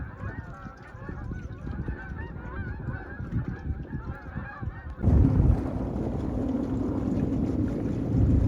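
Several geese honk repeatedly from a wetland where mallards and gadwall gather, with wind buffeting the microphone, then a sudden louder rumble of wind or boat noise takes over.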